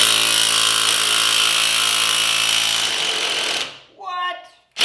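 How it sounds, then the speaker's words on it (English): An impact wrench hammers loudly and steadily for about three and a half seconds, breaking car lug nuts free, then cuts off; a voice speaks briefly in the quieter tail. "I'll be surprised if this can break the lug nuts free."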